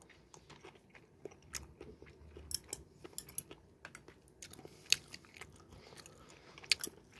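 Close, crisp bites and crunching from someone eating a breaded kimchi pork cutlet, with irregular snaps and chewing in a quiet room and no talking.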